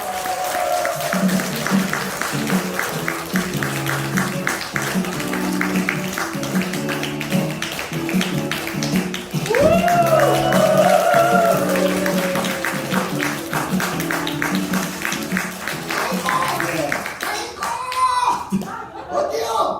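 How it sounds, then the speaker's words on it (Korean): A church audience claps in rhythm to welcome a ventriloquist's performer, steady beats repeating for several seconds alongside talk over the top, with a brief laugh-like vocal in the middle. "깡 여사님 박수로 맞이해주세요"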